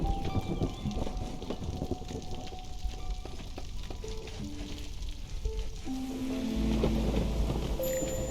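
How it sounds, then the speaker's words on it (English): Storm weather in the city-building game Against the Storm: continuous rain hiss with rumbling thunder swelling near the end, layered with faint game interface chimes. "And we got the storm coming in."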